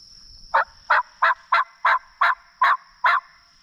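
A wild turkey calls in eight evenly spaced, loud clucking bursts, close by, against a steady high-pitched hum, in the afternoon at Natchez State Park during a hunt.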